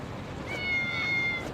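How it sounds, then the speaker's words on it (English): Cat meowing in the video game Lost Judgment, one drawn-out, fairly loud meow with a faint second cat voice layered under it, heard alone over quiet game ambience. "Cats!"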